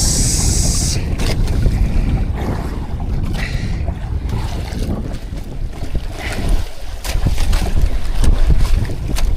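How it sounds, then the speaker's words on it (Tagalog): Sea waves wash around a small fishing boat out at night, a steady rushing swell of water with gusty wind buffeting the microphone throughout, fairly loud and close. "Alon ng dagat."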